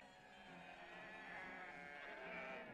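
Hissar sheep bleating as a flock is driven to high mountain pastures, a sustained chorus of overlapping calls at moderate distance, faint and even.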